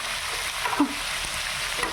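Onion frying in a pan gives a steady, close sizzle with a brief stir or scrape near the middle.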